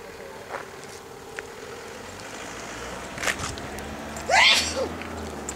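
A single sharp sneeze near the end, close and fairly loud, over a quiet outdoor background in Sisteron, France, with a faint earlier breathy catch.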